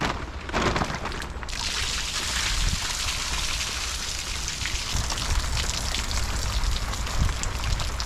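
Rain falls steadily on a tent at a camp set up for a prewar roadster build, a dense, even patter of drops hitting the fabric that holds at a constant level throughout.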